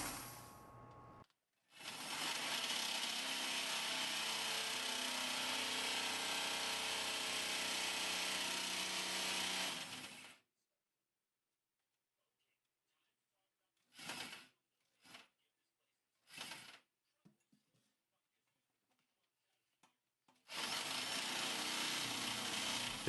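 A step drill bit grinds through a stainless steel kitchen sink in long continuous passes, loud and close. Silent pauses fall between the passes, broken by a few short bursts of drilling.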